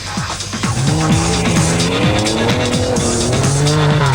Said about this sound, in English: Short shifting the gears was Mashioka in order to use the torque of the car rather than the top end.